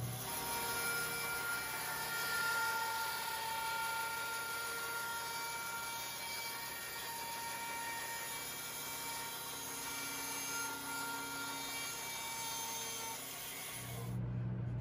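A power saw cuts wood continuously for about fourteen seconds, a steady whining, grinding drone that cuts off abruptly at the end.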